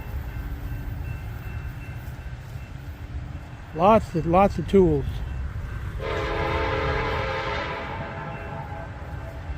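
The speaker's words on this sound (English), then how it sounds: "Here comes another train." A train rumbles past outdoors at a farm equipment auction, a steady broadband roar building midway and holding to the end, with a person talking briefly before it rises.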